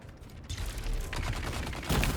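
Explosives go off in the Dune: Awakening game, three or four booming, crackling blasts in quick succession that swell loudest at the end, sounding close and heavy with no voices over them.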